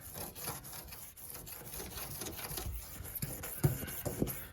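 A Mercedes Sprinter van panel is rubbed down by hand to a matte finish, giving a steady scratchy scrubbing with repeated strokes, close and fairly quiet, with no talking.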